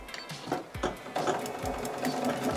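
Sewing machine stitching a back stitch on fabric, a rapid mechanical whirring with rhythmic needle clatter, close and continuous with brief pauses as the stitch direction changes.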